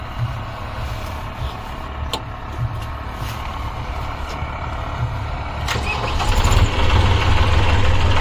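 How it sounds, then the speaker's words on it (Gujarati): A Massey Ferguson 7250 tractor diesel engine running steadily at close range, a loud continuous low rumble that grows stronger toward the end as it revs up. "ચાલુ થઈ ગયું હવે ટ્રેક્ટર"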